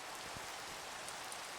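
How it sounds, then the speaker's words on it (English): Steady rain in the Minecraft video game, a soft, even hiss of falling drops throughout, faint and unbroken with no voices. "I hate the rain in this game."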